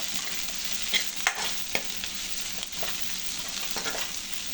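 Curry leaves fry in a little oil, with a steady hissing sizzle broken by several sharp crackles and utensil scrapes, close and even throughout with no voices.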